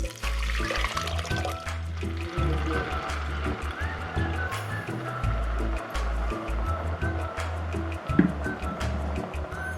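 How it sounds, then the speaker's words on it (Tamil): Rice-washing water poured into a pan of mookirattai keerai kadaiyal, a steady close splashing stream lasting several seconds with low bubbling underneath. "அரிசி கழுவின தண்ணியும் அதோடு சேர்த்து எடுத்து வச்சுருக்கேன்."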